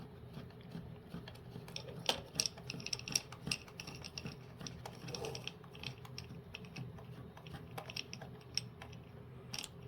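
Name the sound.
screwdriver driving a screw into a nut on robot chassis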